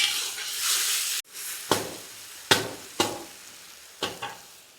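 Green chilli paste sizzles and fries in a pan, a loud hissing spurt followed by several sharp scraping stirs of a spoon against the pan, close by.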